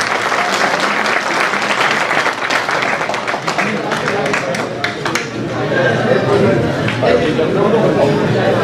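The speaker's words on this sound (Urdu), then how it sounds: "آپ زوردار تالیاں بجائیں۔" A mushaira audience breaks into sustained, dense applause that stays loud and even throughout, with a murmur of crowd chatter mixed into the clapping.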